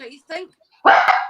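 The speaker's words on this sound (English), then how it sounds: "Sorry, that's the dog." A household dog barks once, loud and close, right after a short spoken phrase.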